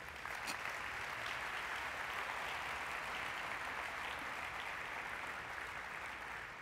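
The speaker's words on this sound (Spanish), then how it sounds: "Vamos, denle un aplauso a Dios." Church congregation clapping during a Spanish-language sermon, a long, even, fairly faint wash of many hands applauding without pause.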